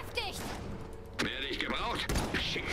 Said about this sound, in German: Hey, die Kanone kann schießen.